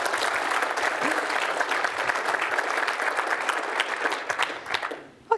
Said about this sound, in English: Yes, some applause would be good.